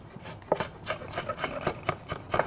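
Wooden pins for rafters, octagon-shaped, being shaved down by hand with a blade: a series of short, close scraping strokes at an irregular rhythm, fairly quiet and heard alone.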